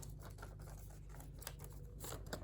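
Scissors snipping through paper while craft shapes are cut out, soft close crisp snips in quick irregular bursts over a steady low background hum.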